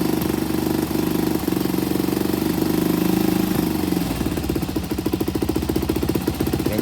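A motorcycle engine runs loudly and close up during a repair, a rough, rapid pulsing idle that holds steady, then shifts to a slightly lower, more distinct chugging beat partway through.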